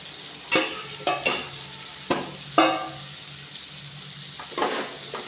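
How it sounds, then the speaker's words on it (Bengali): Potatoes and soybean chunks stirred into thick spiced masala in a pan, a few sharp spatula scrapes spaced apart over a faint sizzle, close and without talk. "ভালো করে মিশিয়ে নেব।"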